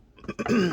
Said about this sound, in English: Still got that Rona cough.